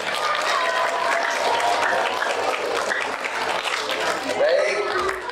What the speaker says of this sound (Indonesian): Ayo beri tepuk tangan untuk kita semua yuk.